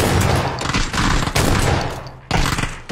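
Gunfire in the PUBG video game, several loud close bursts of rapid shots separated by brief pauses, dense and punchy.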